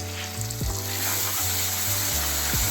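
Tomato and spice paste fries in a pan for fish biryani, sizzling steadily at close range, with periodic scraping stirs that recur about every second and no talk over it.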